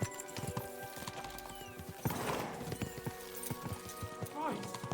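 Horses clip-clop steadily at a quick pace with a brief whinny, their hooves knocking in a close, repeated rhythm while voices and movement noise run underneath.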